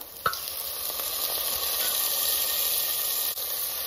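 Tomato with turmeric and chili powder fries in a pan for a ladyfinger curry, giving a steady, close sizzle and hiss from start to finish after a brief clatter at the beginning.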